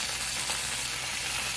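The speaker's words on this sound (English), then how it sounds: "You can hear that sizzling." Steady, dense sizzling of bok choy frying in a pan, a continuous crackly hiss with no voices.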